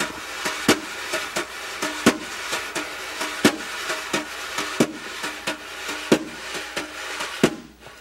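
Brushes swish on a snare in a steady, lilting triplet jazz shuffle, with sharper accents recurring at regular intervals, close and fairly quiet.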